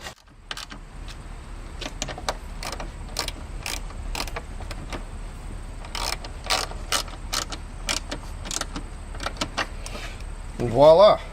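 Nuts spun by hand onto bolts while fitting a tail lamp assembly on a full-size Range Rover, giving a series of light clicking, ratcheting metal ticks at close range, ending in a brief louder rattle.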